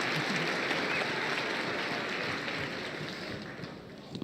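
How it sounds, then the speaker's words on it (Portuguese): Audience giving a round of applause for Medina, a steady, fairly soft wash of many hands that holds evenly and fades slightly toward the end. "Uma salva de palmas pro Medina"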